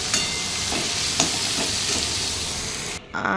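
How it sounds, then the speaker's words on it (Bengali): Chopped beans and carrots frying in a pan for fried rice, a loud, close, constant sizzle with faint stirring scrapes, cutting off abruptly just before the end. "এখানে বিন গাজর ভাজা হচ্ছে এটা ফ্রাইড রাইসে যাবে"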